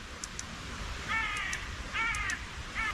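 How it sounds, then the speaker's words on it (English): Crows caw loudly in a forest, several harsh calls in quick bursts over a steady wooded background hiss, fairly close and carrying. "The birds are going nuts again."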